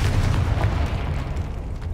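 Confringo fire spell in the Hogwarts Legacy video game going off as a deep, rumbling explosion that fills the moment and slowly fades, loud and close, with no talking.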